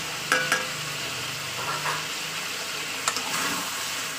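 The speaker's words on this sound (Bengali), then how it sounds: "তো চলুন এবার ভালো করে কষিয়ে নিই হলুদের সঙ্গে" Chicken and potato pieces stir-fried in oil with turmeric for chicken kosha, a soft steady sizzle broken by a few sharp spoon scrapes and knocks against the pan; no one speaks.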